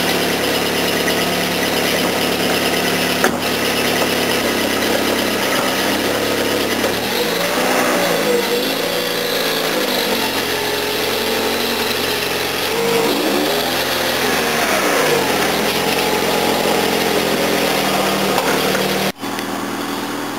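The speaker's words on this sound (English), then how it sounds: "The car's still running fine" A car engine runs steadily throughout while sitting on a jack, with a few surges and revs in the middle of the stretch and an abrupt drop near the end.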